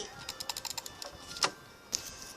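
A computer mouse clicks rapidly in a quick irregular run, followed by a few sharper, louder clicks, close and crisp in a quiet room.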